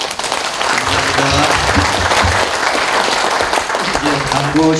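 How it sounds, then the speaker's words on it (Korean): An audience in a large hospital auditorium in Busan applauds loudly and continuously at a patriotic prayer gathering for national veterans, while a voice speaks over the clapping. "우리 감사를 표현해서 박수하겠습니다."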